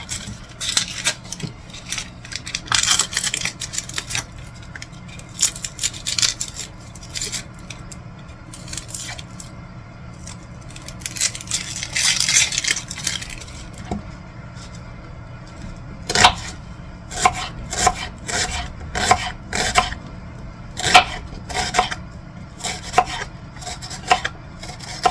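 Half of a small onion being cut on a kitchen cutting board: sparse knife strokes at first, then a brisk run of crisp, regular chops close by, with no voices.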